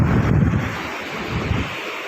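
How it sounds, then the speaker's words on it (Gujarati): The Ozat river near a broken bridge at Dhanfuliya village, Vanthali taluka, rushes loudly and continuously. Wind buffets the microphone at the start. "આ ઓજત નદી,"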